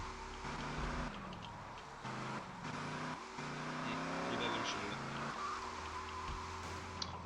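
A car in GTA Liberty City Stories drives and slides, its engine droning and shifting pitch as it revs, with faint skids and a steady background bed under the motor.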